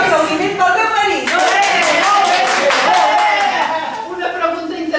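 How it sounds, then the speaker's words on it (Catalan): An audience breaks into lively applause after a brief lead-in, many hands clapping fast and loud while a voice carries on speaking over the clapping. "Un aplaudiment pel meu marit."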